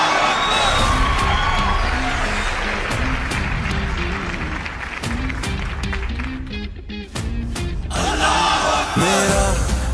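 A large crowd applauds and cheers to welcome a singer at a Pakistan Air Force anniversary event, with dense sustained clapping, whoops and shouts, and voices over the ovation.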